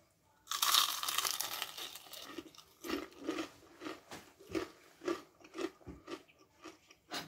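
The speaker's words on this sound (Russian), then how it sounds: "Я надеюсь, вы услышали хруст." Squid fried in crispy batter gets bitten into, giving one loud crunch followed by a series of rhythmic, close crunchy chews, with no speech.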